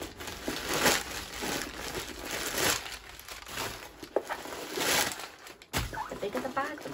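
Packaging rustles and crinkles nearby during the unboxing of a mint green Ariel Loungefly bag, with irregular bursts of crumpling and tearing and a high, steady tone running underneath.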